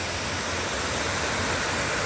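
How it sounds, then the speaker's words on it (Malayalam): Kanthampara waterfall in Wayanad roars as a dense, steady rush of falling water, loud and close, with no break and no voices. "ഇപ്പോൾ ഇതങ്ങനെ വെള്ളം താഴെ വീണൊഴുകയാണ്"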